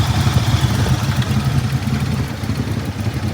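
A close, loud engine of a 1979 Cadillac Seville idles steadily with a rough, throbbing low rumble and slight mechanical clatter.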